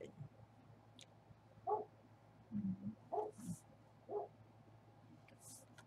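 A dog barks several times in short, separate bursts, fairly distant, over a steady low background hum.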